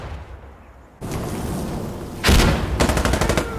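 Gunfire in a competitive shooter video game match, starting as a steady rumble then breaking into loud rapid bursts of shots near the end, with no talking.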